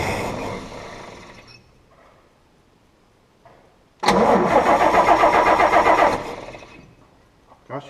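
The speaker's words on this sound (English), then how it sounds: "she turns over nice with voltage" A 1956 GMC truck engine fades out, goes quiet, then cranks and catches with a loud, close, rhythmic run for about two seconds before dying away, with a faint knock at the end.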